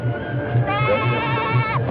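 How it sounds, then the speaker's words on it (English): A goat bleats with a long wavering cry over a steady low background hum, sounding fairly close and loud on its own without any talk. "Take the goat."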